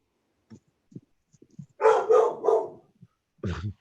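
A dog barks in a home, a short burst of two or three loud, close barks, then one more bark after a pause, with soft scattered sounds in between.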